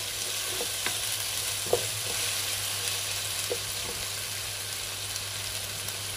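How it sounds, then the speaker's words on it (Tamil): Ginger garlic paste sautéing in a pan for a Jaffna-style mutton curry, a constant close sizzle with occasional light stirring scrapes. "இந்த இஞ்சியில் இருக்கிற பச்சை வாசம் பூற வரைக்கும் நாங்கள் ஒரு கொஞ்சம் வதங்க விட போகிறோம்."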